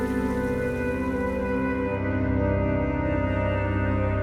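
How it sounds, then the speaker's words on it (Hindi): Steady, dense rain pours down without a break, a thick continuous wash of sound with a low rumble underneath and no voices. "बारिश तेज होती जाती है"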